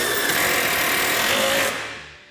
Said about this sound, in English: drill them right in.